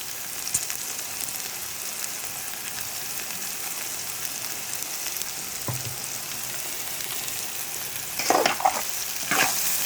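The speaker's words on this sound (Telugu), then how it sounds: "ఆయిల్లో బెండకాయ ముక్కలు ఫ్రై అవుతున్నాయి" Okra pieces fry in hot oil with a steady, dense sizzle that holds close and even throughout, with a few louder crackling bursts near the end and no voices.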